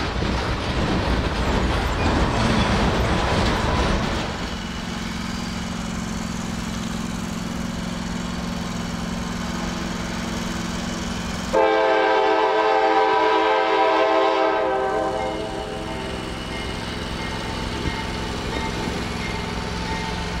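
A freight train carrying US military equipment rumbles past with steady rolling noise, and a loud horn sounds for several seconds before fading back into the rail clatter.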